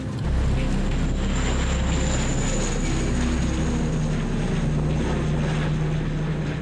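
A firefighting aircraft drones steadily overhead while striking a wildfire in Provence, its engine rumble loud and continuous throughout.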